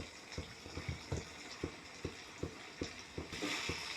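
Brinjal sautéed in oil with masala for kharam vanga: a rhythmic series of spatula scrapes and knocks against the pan at about two per second over a gentle sizzle, with a brief hiss swelling near the end, no voices.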